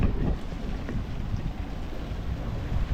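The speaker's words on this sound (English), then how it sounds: "The rain has just about come." Rain arrives over a sailing boat as a dense, steady patter mixed with wind buffeting the microphone, loud and close throughout without talk.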